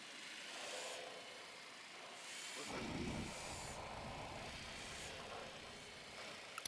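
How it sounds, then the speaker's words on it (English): A drone being deployed and flying in Ghost Recon Wildlands gives a soft, steady whirring hum that swells briefly partway through, ending with a couple of sharp clicks. "Deploying drone."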